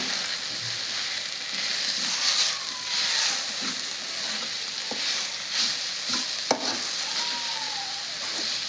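Amaranth leaves and potato fry in a pan with a little oil, making a continuous soft sizzle broken by occasional scraping clicks from a stirring spoon.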